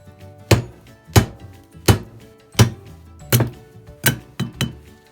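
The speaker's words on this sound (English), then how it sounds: "This one we have to pound with a hammer just to get it out." Sharp metallic hammer blows pound out a brake part on a Honda Pilot at a steady pace, about eight in all, the last few coming quicker, close and loud with no talking.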